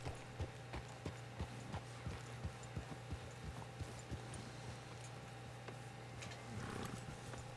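Hooves clip-clop at a walking pace from a horse in the Red Dead Redemption 2 video game, a regular train of crisp, fairly soft footfalls over a quiet outdoor ambience that fade near the end.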